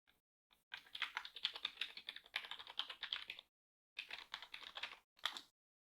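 A password is typed on a computer keyboard in quick, soft, close clicking bursts, a long run of keystrokes followed by two short ones after a pause.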